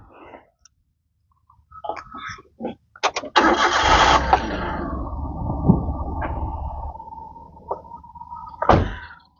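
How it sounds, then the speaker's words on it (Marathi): A second-hand car's engine cranks with a few starter bursts, catches, then settles into a steady idle hum, followed by a brief rev. "आता आपण काय करूयात गाडी स्टार्ट करून बघूयात"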